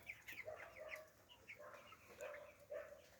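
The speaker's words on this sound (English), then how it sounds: "That's another common fowl chicken." Three-week-old broiler chickens in a coop on a Jamaican farm cluck and chirp in short, repeated bursts at close range over a low background hum.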